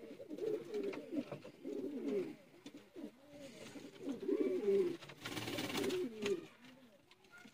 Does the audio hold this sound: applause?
no